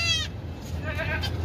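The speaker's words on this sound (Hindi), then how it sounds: "ये बकरी है भाई, बड़ी बकरी है, दूध वाली।" A big milk goat bleats nearby in a short wavering call, followed by a second fainter bleat, over a low steady background hum.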